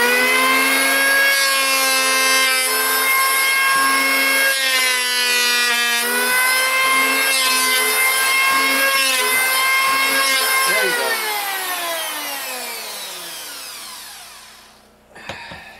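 A planer runs at full speed on a warped wooden coffee coaster blank, giving a loud steady whine with strong harmonics that holds for most of the stretch, then winds down and fades near the end.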